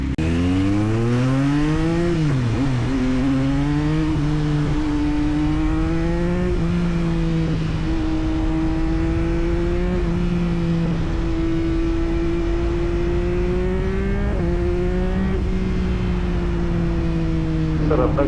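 A Yamaha MT-09 motorcycle accelerates hard through gears with a quick shifter, loud close engine drone climbing in pitch with sharp dips at each rapid shift, heard from the rider's position with wind noise.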